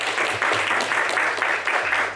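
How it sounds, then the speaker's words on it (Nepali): Wedding guests applaud during the ceremony vows, a loud close wash of clapping with rhythmic pulses and a faint low hum underneath. "ताली बजाइदिनु है"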